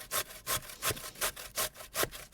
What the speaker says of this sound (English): we want to grate nice long strokes